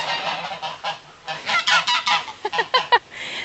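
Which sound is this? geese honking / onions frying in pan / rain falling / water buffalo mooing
geese honking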